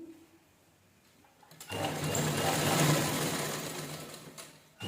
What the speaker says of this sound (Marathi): लावून झाली की दाब शिलाई देऊन घ्यायची.